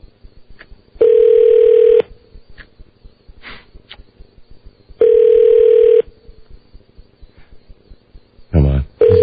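Telephone call tones: two long steady ring tones about four seconds apart, then a quick burst of dialing-like tones at the end, with faint background noise between.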